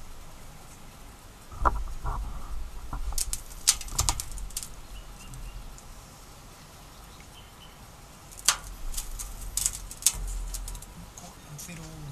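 A bird flaps its wings in short bursts of soft fluttering, near and fairly quiet, over a constant outdoor background at a campsite on Fraser Island.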